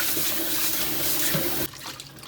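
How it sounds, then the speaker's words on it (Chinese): Tap water runs steadily into a sink while raw shrimp are washed under it, a loud continuous splashing rush that cuts off abruptly near the end. "先把虾洗一下"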